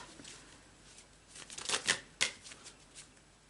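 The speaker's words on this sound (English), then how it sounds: "I've been shuffling these cards for a very long time" Tarot cards are shuffled by hand, a burst of close, crisp riffling and flapping strokes that build up, peak in two sharp rushes, then trail off into softer slides.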